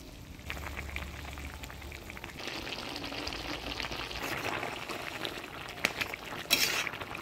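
Fish curry gravy with bata fish and tender bottle gourd shoots simmering in a pot in a Bengali village kitchen, a continuous bubbling hiss with soft pops, close and alone.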